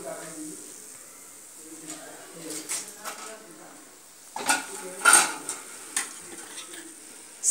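Spoon or spatula stirring chips frying in hot oil for a South Indian kara mixture, with a soft steady sizzle and scattered scraping clinks against the pan, louder toward the end; no talking.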